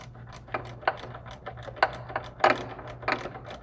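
A ratchet clicks in short irregular bursts while turning a bolt on an Aston Martin DB9 washer fluid reservoir, quiet close metallic ticks over a low steady hum, no speech.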